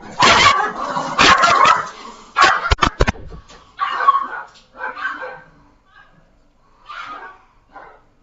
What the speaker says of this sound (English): running out and barking. They're fine. The dogs.